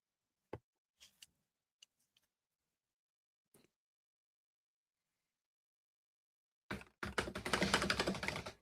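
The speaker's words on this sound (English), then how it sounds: "Man, my keyboard is loud." A loud computer keyboard: a few sharp isolated key clicks spaced over several seconds of near silence, then a dense burst of rapid, forceful typing at the end.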